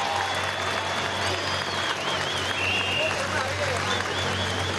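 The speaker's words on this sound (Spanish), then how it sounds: "Recibámoslo, sí, con un fuerte aplauso." Sustained applause from a ceremony audience in Venezuela welcoming the nation's executive vice president at a Carta de Jamaica bicentennial commemoration, a steady dense wash of clapping with crowd murmur and faint whistles throughout.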